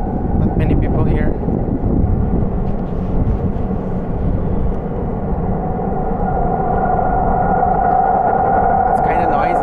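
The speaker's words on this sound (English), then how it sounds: "It's kind of noisy right now as the metro is coming, and we can feel like a real strong wind coming." Metro train arriving at Kurtköy station in Istanbul amid strong wind, a loud rushing roar and rumble that builds into a rising tone near the end, with faint voices underneath.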